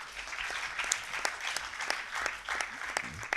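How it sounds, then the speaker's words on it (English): Audience at a national debating competition final in India clapping, a thin scattering of distinct hand claps, fairly quiet and uneven in rhythm. "So now you can clap."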